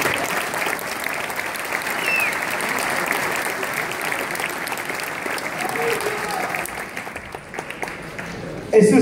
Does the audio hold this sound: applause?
yes